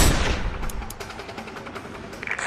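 Sniper rifle shot in Sniper Ghost Warrior 2, one sharp loud crack at the start whose echo decays over the following seconds into quieter ambient game sound.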